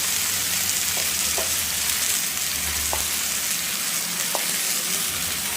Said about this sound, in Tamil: லைட்டாக எண்ணெய் வச்சு தான் இந்த தக்காளி குழம்பெல்லாம் வதக்கி எடுத்துக்கணும்